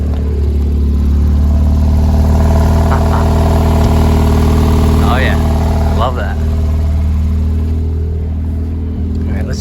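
A 2017 Porsche 911 Carrera idles with a deep, throaty exhaust rumble, then gets two quick blips of revs about a second apart before settling back to idle. It is loud and close, with a voice speaking briefly over it.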